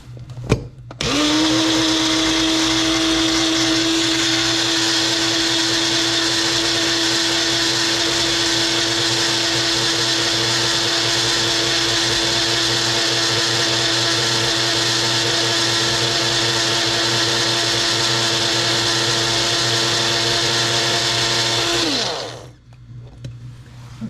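A blender homogenizes broccoli sprouts, roaring at a steady high-pitched whir for about twenty seconds after a quick start-up, then spinning down to a stop, loud and close.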